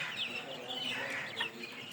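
Chicks being loaded in new crates into a refrigerated delivery truck: a dense, steady chorus of high peeping and clucking, close by and continuous with no pauses.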